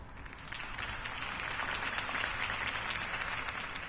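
Steady applause from a crowd, a dense wash of many hands clapping that holds evenly the whole time with no voices standing out.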